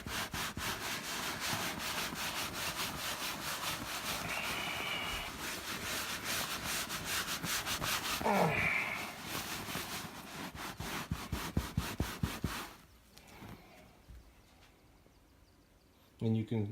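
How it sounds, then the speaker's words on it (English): A cloth rubs leather conditioner into a leather couch with steady back-and-forth strokes, a dense scuffing swish that continues for about twelve seconds before fading into quieter handling sounds. "I'm going to take my cloth and really kind of rub it in"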